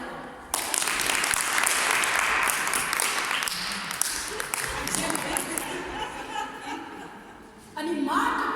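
A live audience at a drama performance breaks into sustained clapping that swells and then fades over several seconds, with a presenter's voice and chatter mixed in, before the applause briefly picks up again.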